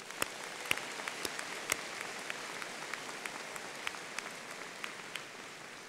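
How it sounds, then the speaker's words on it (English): A commencement crowd at Clarkson University applauds faintly and at a distance, a soft continuous patter of clapping with scattered sharper individual claps standing out. "A round of applause for them all."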